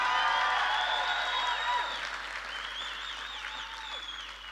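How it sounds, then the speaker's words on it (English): A large audience bursts into a loud round of applause with cheering and whistles, the clapping strongest at the start and then easing slightly while still sustained. "I'm going to give you a second opportunity for the loudest round of applause of your entire lives"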